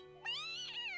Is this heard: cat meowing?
yes